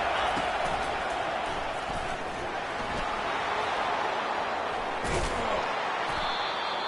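Roaring stadium crowd at a college football game, a dense, steady wash of cheering voices throughout with a brief louder surge near the end.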